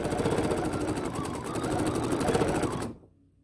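A BERNINA sewing machine fitted with a stitch regulator hums and pulses close by in a continuous, even run of rapid stitching, then cuts off abruptly near the end.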